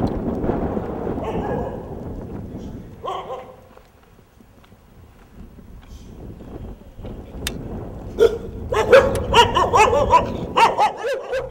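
Several dogs bark and yip in an outdoor desert setting, first a rough cluster of barks, then scattered calls after a lull, building into rapid overlapping barking near the end, loud and close.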